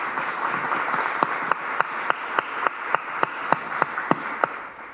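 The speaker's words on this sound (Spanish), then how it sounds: "Os pido desde ya un aplauso de bienvenida para ambos" An audience applauds to welcome speakers at the Antequera literary festival in 2025, a steady wash of clapping with a few sharper, evenly spaced claps standing out near the front.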